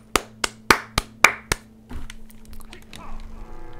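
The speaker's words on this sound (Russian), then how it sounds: "Браво, аплодисменты." Six sharp, evenly spaced claps of applause in a LEGO Batman 3: Beyond Gotham video game scene, loud and close, followed by quieter game sounds.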